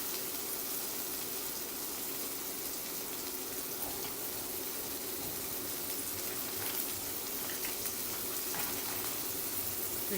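Beef koftas fry in a pan with a dense, steady sizzle that hisses continuously and close up, with faint pops and no talking.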